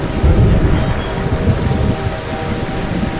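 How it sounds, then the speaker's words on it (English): Rain and thunder in the Garry's Mod video game: a dense, steady hiss of heavy rain with low rumbling thunder rolling underneath, loud and close, with no voices. "And it is raining."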